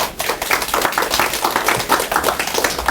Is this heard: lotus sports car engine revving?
no